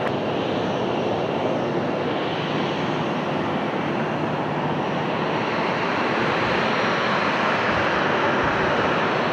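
A Boeing 737-700 jet taxiing at an airport, its engines giving a steady, loud broadband roar that holds constant throughout with no talk.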